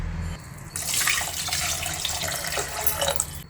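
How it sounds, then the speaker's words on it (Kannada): Water gushes from a tap into a pot of lentils for khichdi, a bright steady splashing that starts abruptly and runs close and loud to the end. "ಇನ್ನು ನಾಲ್ಕು ಲೋಟ ನೀರು ಹಾಕಬೇಕು"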